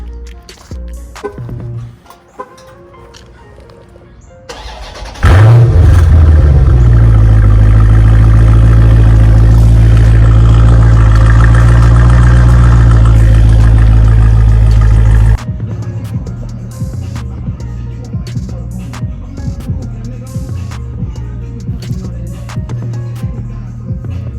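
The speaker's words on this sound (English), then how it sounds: "yo, this car is loud" A 2020 Dodge Challenger Scat Pack's loud engine roars to life and rumbles hard for about ten seconds, then drops back to a steady, throaty idle.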